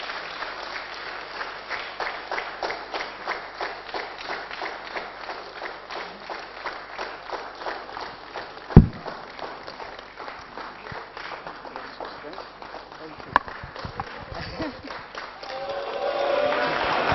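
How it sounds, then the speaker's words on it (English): Audience at a colloquium introduction applauding, steady sustained clapping from a crowd filling the room, with a couple of sharp knocks partway through and rising noise at the end. "A very big round of applause,"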